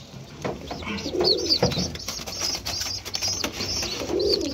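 Domestic pigeons cooing repeatedly in a loft, soft low coos recurring throughout at close range with some higher chirps and background rustle, no talk.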